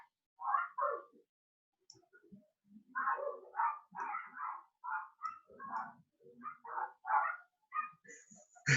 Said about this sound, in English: Dog's going nuts in the backyard.